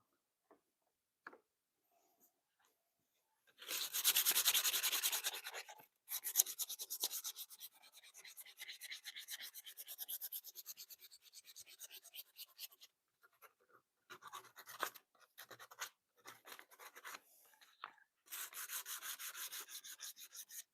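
Sandpaper rubbing along a wooden axe handle in a home workshop, steering clear of the part that fits through the axe head, in bursts of dry rasping strokes with short pauses, close and fairly quiet, no talking.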